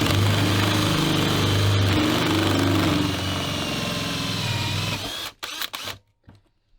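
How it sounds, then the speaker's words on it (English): A drill bores a hole through the floor of a van, its motor whining loud and steady for about five seconds before stopping, followed by a few brief clicks and knocks. "We've drilled our hole"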